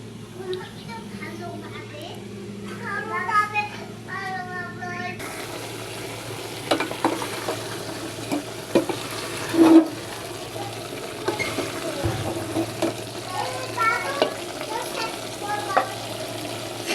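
Vegetables fry and sizzle in a pan as a spoon stirs them in bursts of scraping and clatter, with a lid set on now and then, all of it close and steady.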